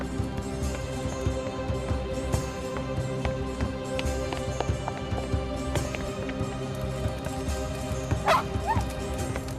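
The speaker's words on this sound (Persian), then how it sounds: "سگ تو بوده است" A dog barks repeatedly in short, scattered yaps against a busy background, fairly close, with running movement and light yips between barks.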